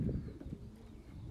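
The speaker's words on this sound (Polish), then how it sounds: "Te gołębie tutaj właśnie z wybrzeża u nas lądują" Pigeons arriving at a loft on the coast in Czersk, Poland, after a racing flight, with soft low cooing close by and a few faint rustles and calls.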